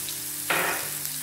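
Green chilies and onions tossed into a hot pan for a soya keema filling, bursting into a sudden close sizzle that then fades back to a low hiss within a second.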